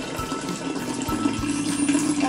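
Water pours in a steady splashing stream into a container for a homemade lava lamp, close and continuous for a couple of seconds.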